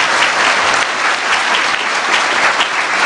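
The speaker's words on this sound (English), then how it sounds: "Bigger round of applause." An audience at a festival gathering claps in dense, steady applause that stays loud and even for the full three seconds, with no voices rising above it.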